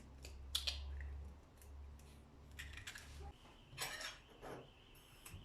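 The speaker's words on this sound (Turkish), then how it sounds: "Önce yumurtamı kırıyorum" An egg is cracked against a hard edge for a pancake batter: a few sharp clicks and taps early, then light scraping and clinking of shell and bowl, quiet and close, with no talking.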